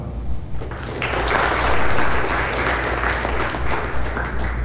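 An audience at a school evening awards ceremony for juniors and seniors bursts into steady, dense applause for graduating students, loud and sustained throughout with many hands clapping at once.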